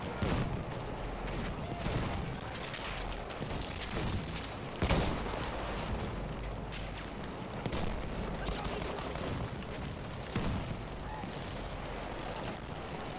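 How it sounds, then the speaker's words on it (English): Battlefield 1 multiplayer battle with mortar fire among dense, continuous gunfire, loud booms punctuating a steady wartime din throughout. "They got a mortar? Really?"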